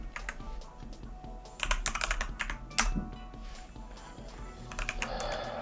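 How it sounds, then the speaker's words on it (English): Rapid clicking keystrokes on a computer keyboard, clustered in irregular bursts with louder strikes mid-way, close by against a faint steady background hum, with no voices. "I'm typing"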